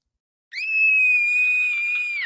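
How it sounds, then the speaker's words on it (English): A woman's long, sustained, high-pitched scream from the video game What Remains of Edith Finch, alone and close, holding one steady pitch for nearly two seconds before breaking off sharply. "As a child star, Barbara was famous for her scream."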